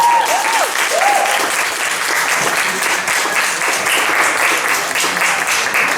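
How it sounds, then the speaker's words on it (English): Applause from a comedy night audience at a pub show, Joke at the Oak, greeting contestants for a game: loud, dense clapping sustained throughout, with a few brief whistles or whoops near the start. "Round of applause."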